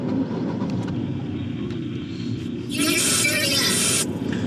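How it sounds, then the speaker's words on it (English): Car engine turned on: steady low rumble and road-like noise with a bright, hissing burst in the middle of the clip, while people talk nearby. "And I'm gonna turn the car on."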